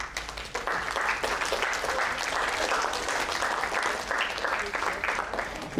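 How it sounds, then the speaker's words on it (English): Girls in the audience of a creative talk at TARUMT clap their hands, a dense, steady burst of many hands with quick irregular claps, loud and close, lasting several seconds with chatter mixed in. "If yes, can you clap hand?"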